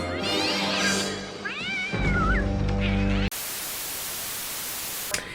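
A cat meows loudly several times in the first three seconds over a steady hum, followed by a burst of loud static hiss to the end.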